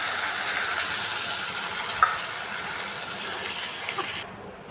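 Cut onions dropping into hot oil in a pan for a Tamil cauliflower koottu, giving a steady broadband sizzle that runs evenly for about four seconds before cutting off abruptly, with no voices.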